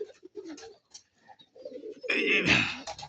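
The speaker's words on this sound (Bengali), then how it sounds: "এই যে নিচে আছে কবুতর" Local-colour pigeons in a loft give soft, low coos in short broken phrases, quiet and close, before a louder, rougher burst of cooing and fluttering near the end.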